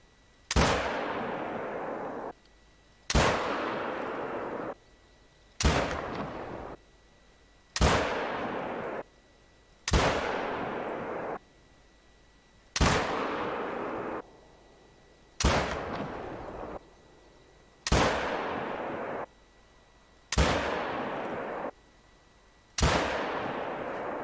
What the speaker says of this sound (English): And that is 10 shots from 300 meters.